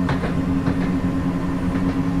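A Class 170 diesel train runs on the rails between Edinburgh and Glasgow, heading toward Croy. It gives a loud, steady rumble with a low engine drone and rhythmic wheel clatter throughout.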